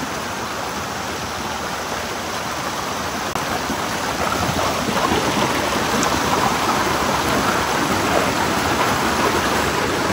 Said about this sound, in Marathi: अरे तिच्या गाई ह्या पावसाने धुमशान मग घातला.